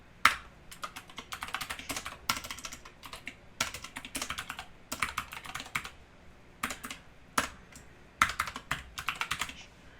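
Typing of HTML code on a computer keyboard, with rapid clicky keystrokes in uneven bursts separated by brief pauses, close and clear with no talking.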